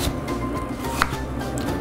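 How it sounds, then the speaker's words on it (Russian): A knife cuts a raw carrot into thin plates on a cutting board, a few soft, close slicing strokes in a quiet kitchen with no talk. "Нарезаем пластинами."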